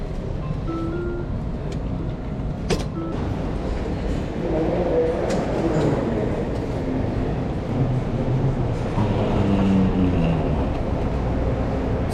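A Chicago metro train on the blue line carries riders downtown toward the Monroe station, its steady rumble and rolling rail noise continuous and close throughout, with a brief sharp clack partway through.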